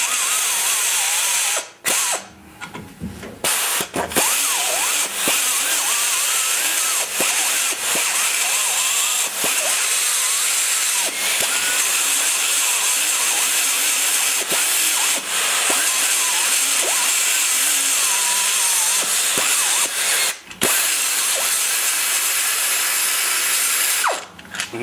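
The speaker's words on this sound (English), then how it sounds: "I always do as much as I can with a burr, let's open up the oil passages on the top." A burr tool grinds open the oil passages on the top of an Imhoff 186 hump Stage III engine part, a continuous high whining drill-like buzz with brief stops and restarts, loud and close, no talk.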